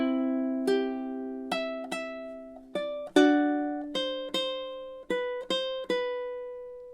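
Ukulele strums out two syncopated measures of Jimmy Buffett's Margaritaville, roughly a dozen bright chord attacks with accents landing on offbeats, each ringing briefly before the next, played alone and close with no voices.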